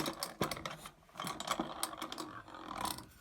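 Unrestored 1950s manual coffee grinder turned by hand, its burrs giving a quiet, irregular series of crunching clicks and rattles close up.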